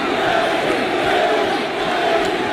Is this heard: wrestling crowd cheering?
yes